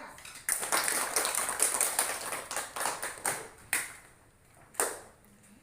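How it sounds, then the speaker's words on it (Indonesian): Small-group clapping in a classroom for group 3, a burst of claps that thins out into a few scattered final claps, fairly close and with no talking. "kita beri aplaus untuk kelompok 3"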